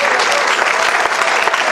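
A church congregation applauds loudly during an evangelical service, a dense, sustained roar of clapping that fills the whole moment at close range.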